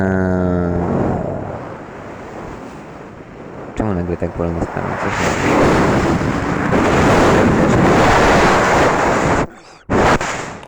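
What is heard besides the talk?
gusts of wind in a video game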